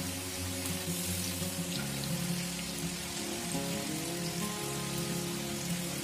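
Homemade French fries frying in oil over a medium gas flame: a steady, dense, rain-like sizzle, close and even throughout, with a soft tonal melody running underneath.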